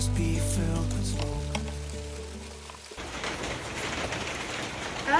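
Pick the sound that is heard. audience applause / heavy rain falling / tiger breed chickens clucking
heavy rain falling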